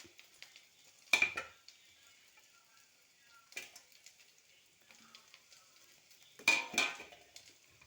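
Chopped bread being toasted in ghee in a pan: three separate bursts of spatula scraping and clinking against the pan over a very faint sizzle, with near-silence between them.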